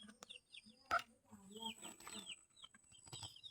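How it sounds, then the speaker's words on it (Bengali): Native deshi chickens in a small backyard coop, with short clucks and calls scattered through the clip at close range, mixed with handling noises and light activity. "এদিকে দেশি মুরগি আছে"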